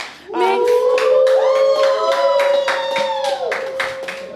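A talk-show audience at an Afrobeats program claps in a steady rhythm under a loud, sustained voice that rises and holds before the clapping tapers off.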